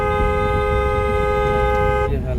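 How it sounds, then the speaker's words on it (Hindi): A car horn blares in one sustained honk over low engine rumble during a driving lesson in traffic, stopping suddenly near the end. "हॉर्न दीजिए, हॉर्न।"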